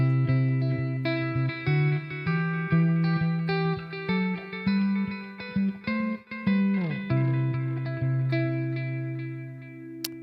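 An electric guitar rings out chords and single notes through delay and reverb with no pedal engaged, each strum trailing into echoing tails, loud and close with no talking.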